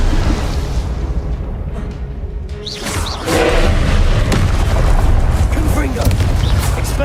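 A Confringo spell blast in the Hogwarts Legacy video game lands as a loud booming explosion, followed by a sustained rumbling roar, with other spell effects and a voice calling out over the din.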